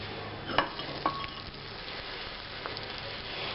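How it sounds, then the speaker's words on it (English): A pot of chicken stew boils on the stove, a continuous bubbling hiss with a couple of sharp clinks of a utensil against the pot. "As you can see, it's boiling."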